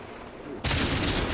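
Artillery and gunfire in a tank video game: a brief low rumble, then a sudden loud blast that holds as a dense roar to the end of the short clip.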